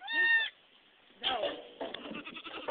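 A baby goat gives one loud, close, half-second bleat, followed by quiet, then rustling and handling noises from the farm.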